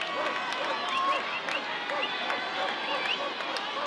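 A minor-league baseball crowd roars at a stadium, a broad, sustained wash of cheering and clapping heard from a distance under a commentator's voice.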